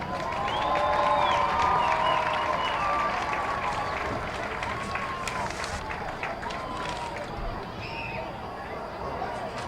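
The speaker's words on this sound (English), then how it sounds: "One more round of applause for the king and queen" Crowd applause and cheering at a high school football game for the homecoming king and queen, a steady dense roar of clapping and voices with a loudspeaker tone over it, fading slightly toward the end.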